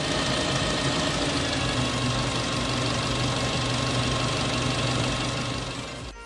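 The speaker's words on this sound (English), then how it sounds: "observe the engine behavior and sound" Eicher CNG BS VI truck engine idling during a cylinder cut-off diagnostic test, a steady, loud, close-up rumble with a rhythmic knocking pulse that stays even throughout and eases slightly at the very end.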